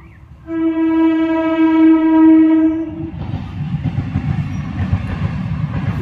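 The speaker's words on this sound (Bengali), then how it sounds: "ট্রেনটা যাচ্ছে" A train sounds a long steady horn, then rumbles past with a rushing, rattling roar that continues loudly.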